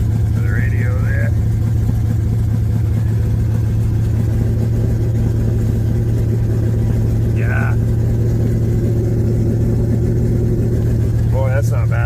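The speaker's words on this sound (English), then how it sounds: "I need to hook up the exhaust. It's right off the headers. That's why it's so bloody loud" A Chevy engine runs loud and steady with its exhaust unhooked, open straight off the headers, a constant close rumble filling the whole stretch while a voice speaks briefly over it.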